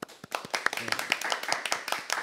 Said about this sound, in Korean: 발제자 여러분들께 좀 박수 한번 쳐주시겠습니까?